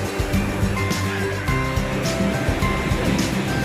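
Sea waves wash onto a beach in Phuket in a steady, loud surf roar, continuous and close, with small swells in the rush and no distinct voices over it.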